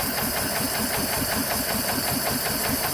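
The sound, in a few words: engine idling after adjusting the mixtures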